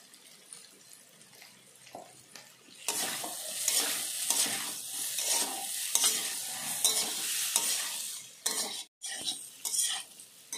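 Potatoes sautéing in a pan with chilli, turmeric and salt: a steady, loud sizzle with scraping stir noises that starts after a quieter few seconds and continues close up, briefly cutting out near the end.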